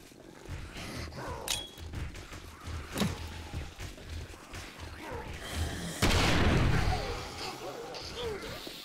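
Grenade explosions in 7 Days to Die on horde night, a string of booming blasts and thuds, one sharper crack early and a heavy loud burst later that rumbles and fades, with scattered clatter between.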